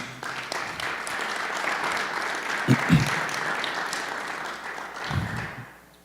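A church congregation claps steadily in sustained applause, with a few brief voices rising through it before it fades at the end.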